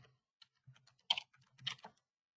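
Quiet computer keyboard typing, a few short bursts of key clicks with pauses between them, close and alone.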